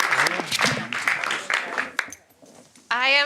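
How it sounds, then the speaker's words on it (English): Audience applause for a business panel at an eCommerce summit, a steady wash of clapping partly buried under a voice talking over it. "Ladies and gentlemen, please give them a round of applause."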